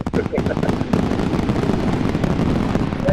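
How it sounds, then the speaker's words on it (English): Firework bursts crackle and pop in a dense, continuous barrage at close range, with sharp transients over a loud rumbling background and voices partly mixed in. "There's the firework."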